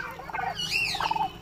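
Turkeys on a low-cost poultry farm in Assam gobble loudly in two rapid rattling bursts, the second following a short pause, over a steady background murmur.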